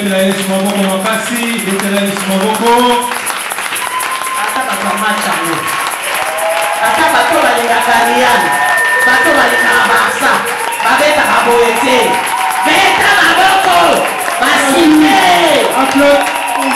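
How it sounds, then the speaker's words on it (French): A church congregation cheers and acclaims the Lord during a French-language worship service: many voices shouting and whooping, with clapping, in a loud, sustained, dense roar. "Est-ce qu'on peut acclamer très fort le Seigneur?"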